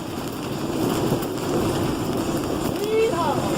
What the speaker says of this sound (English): A little bit of rain to come in with it.